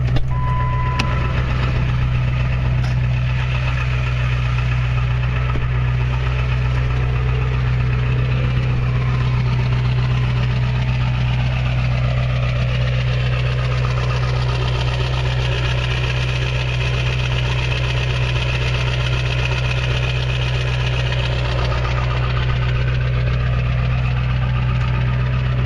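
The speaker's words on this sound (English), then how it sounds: "Yep, that's a good old 5-inch exhaust on her right there. No muffler, so she's a little noisy." A truck runs at a steady idle after a cold start, loud and deep through a 5-inch exhaust with no muffler, its low rumble continuing unbroken and close for nearly half a minute.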